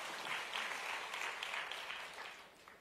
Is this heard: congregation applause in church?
yes